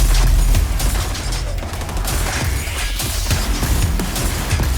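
A saw launcher firing in the shooter game XDefiant, a loud, dense stream of rapid shots and impacts running continuously through the clip with no gaps, with music and effects layered underneath.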